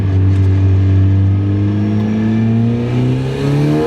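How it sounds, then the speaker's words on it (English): Loud enthusiast car engine revving close by, a strong droning note that climbs and wavers as the throttle rises and eases, sustained and alone without speech. "Normal people complain all the time about how loud our cars are, how fast we're going."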